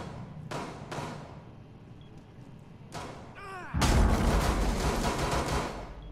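Gunfire in the video game Rainbow Six Siege: several sharp isolated shots early on, then a loud dense burst of rapid fire that continues to the end, with no talk over it.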